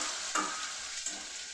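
Cauliflower fries in a pan with a steady close sizzle, broken by two brief stirring scrapes.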